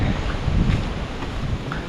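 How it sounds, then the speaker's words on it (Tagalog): Strong wind roars and buffets the microphone in a steady, gusty low rumble, with no other clear sounds. "Napakalakas ng hangin"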